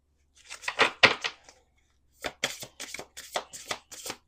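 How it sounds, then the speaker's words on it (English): Oracle cards being shuffled by hand: two bursts of crisp riffling and slapping card sounds separated by a brief pause, close and clear with no talking. "Let's do two more shuffles."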